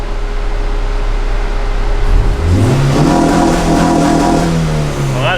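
A tuned naturally aspirated Honda EM1 engine idles, then revs up and holds a rising, strained note before easing off, loud and close with no talk.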